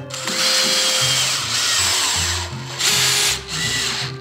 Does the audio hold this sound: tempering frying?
no